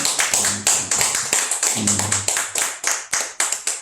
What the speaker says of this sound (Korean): 힘차게 박수 쳐주세요.